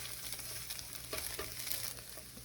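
Scrambled eggs cooking on an electric stove, a quiet sizzle with soft scraping of a spatula stirring the pan, ending in a brief knock.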